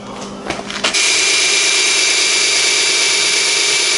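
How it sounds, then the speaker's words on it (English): Power drill boring into the handle of a full-size metal training sword, starting with a brief ragged bite and then settling into a loud, steady high-pitched whine that holds close and unbroken to the end. "I'm going to begin drilling"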